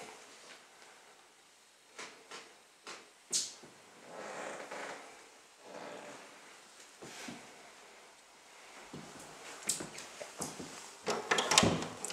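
Wooden drawers slide open and shut in a house, giving several soft thuds and scraping glides spread out with pauses, fairly close and moderately loud, with no talking.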